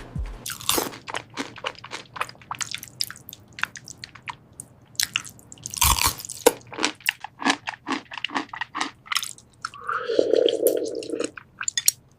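Close, crisp bites and wet chewing of shawarma with garlic sauce come in irregular crunches and squishy smacks, loud near the mouth, with a brief louder burst in the middle and a muffled hum near the end.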